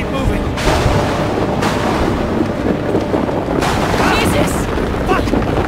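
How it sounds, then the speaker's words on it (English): Thunder from a worsening storm in the horror video game Outlast 2 rolls in as a series of heavy, loud booms and rumbles over a dense, continuous noisy background, with voices partly mixed in. "The storm's getting worse!"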